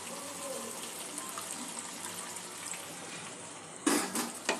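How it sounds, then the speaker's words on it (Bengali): Water poured into a pan of frying chicken masala to start a gravy: a low, steady sizzle, then a sudden bright splash and gush near the end. "এখন এখানে একটু গ্রেভি তৈরি করার জন্য কিছুটা জল দিয়ে দেবো।"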